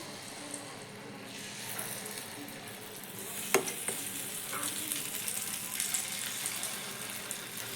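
Spoonfuls of batter sizzle and fry in the cavities of an appam pan over a low gas flame, a steady crackling hiss with light stirring clinks and a brief sharp tap partway through, no talking.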